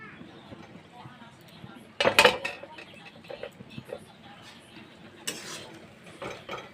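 A metal lid clatters onto a cooking pot of taro flowers, a sharp clanging burst followed by a few lighter knocks and scrapes, with faint background noise in between.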